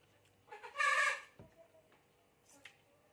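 Farmyard chickens cluck in a short loud burst followed by a couple of quieter calls, close by in otherwise quiet surroundings.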